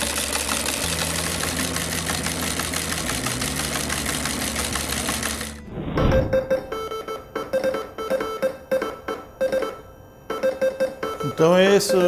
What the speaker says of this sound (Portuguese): Então esse é o telégrafo espanholete. O desenho é igual o de agulha, só que ao invés aqui de agulha tem um alto-falante. E ele tem um som musical.